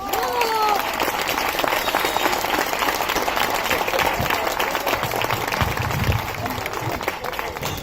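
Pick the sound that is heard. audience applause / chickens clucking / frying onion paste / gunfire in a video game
audience applause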